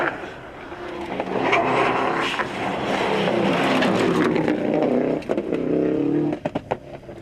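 Rally cars racing on a stage, engines revving and accelerating as cars pass, loud and sustained with rising and falling pitch before tapering off near the end.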